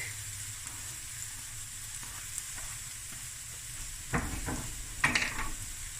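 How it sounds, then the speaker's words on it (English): Garlic sizzles in a pan of oil for tuna spaghetti: a quiet, steady frying hiss that swells suddenly into louder crackling bursts near the end, close and with no talking. "And I'm going to add my garlic."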